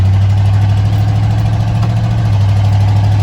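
A car engine with a Holley four-barrel carburetor idles too high, fast and steady, a constant loud low hum with a high, even rev and no break, heard up close.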